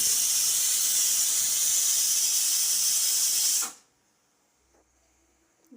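A pressure cooker whistle releases a loud, steady hiss of steam for several seconds, then cuts off abruptly, leaving near silence with faint kitchen clatter.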